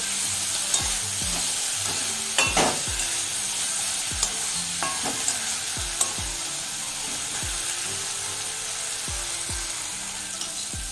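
Spice paste for cabbage curry sautéing in a pan, with a constant near sizzle and a rhythmic series of spatula scrapes and taps throughout, no speech.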